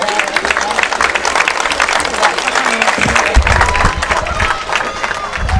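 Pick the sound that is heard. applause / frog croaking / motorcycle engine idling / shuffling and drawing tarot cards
applause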